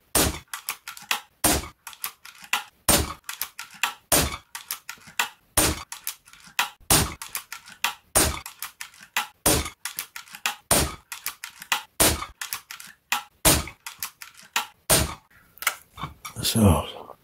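Shots from a Zbroia Kozak bullpup rifle, a Ukrainian-made gun, crack out singly in a steady, evenly spaced string, each report sharp and loud against a quiet background.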